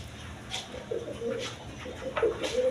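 A brooding Mundian pigeon hen sits on her eggs, giving soft low coos in a few separate bursts against a quiet background with faint higher chirps.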